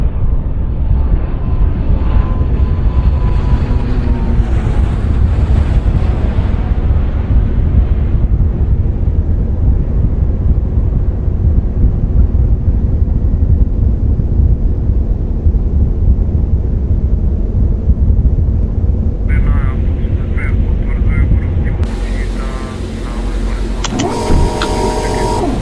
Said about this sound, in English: SK737, you are cleared to take off using the runway in front of you.